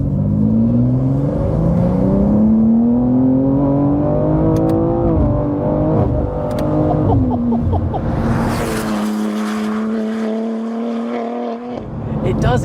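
A BMW G87 M2 Clubsport track car with an S58 engine revs hard and loud up through the gears, its tone climbing, dipping at shifts and then rising again, heard close and steady with no talk over it.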